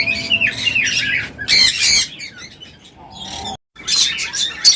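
Diamond doves calling at a bird farm: loud, close bursts of chirps and squawks come in quick clusters with brief pauses between them, and no voices.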